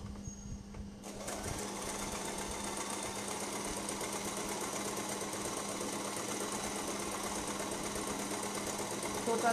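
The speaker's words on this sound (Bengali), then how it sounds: "সেলাই দিয়ে নিচ্ছি।" A sewing machine stitches the long side seams of baby frock skirt fabric, running in a steady fast whir after a brief start, with a constant low hum beneath and faint speech over it.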